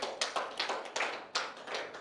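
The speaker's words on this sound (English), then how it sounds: "why don't you clap your hands to the Lord?" A church congregation clapping their hands together during a worship service, a series of roughly even, overlapping claps at a lively beat, fairly close and uniform, with no voices on top.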